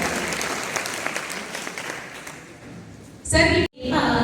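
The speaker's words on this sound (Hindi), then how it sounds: "एक बार पुनः जोरदार तालियों के साथ हार्दिक स्वागत अभिनंदन करते हैं" A concert hall audience at a college in Prayagraj gives loud, sustained applause welcoming a santoor player, with a burst of clapping, a brief cut, then more clapping.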